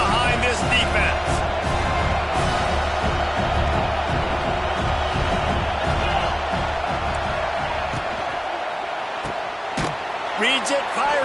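Football stadium crowd roaring as fans rally behind the defense on a big third down, a dense sustained wall of cheering with sharp claps and whoops, a commentator speaking over it.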